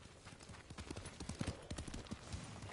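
Horse hooves clip-clop steadily in the Ghost of Tsushima video game, a quick rhythmic trotting of moderate loudness with faint game ambience around it.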